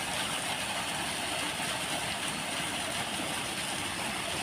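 A jockey pump runs steadily to feed a fire hydrant during a fire safety training session, a constant broadband mechanical roar and hiss with no pauses, fairly loud and close throughout.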